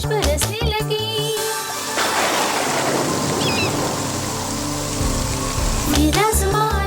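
Steady, dense rain pours down for several seconds, a continuous hiss of drops hitting surfaces, loud and close.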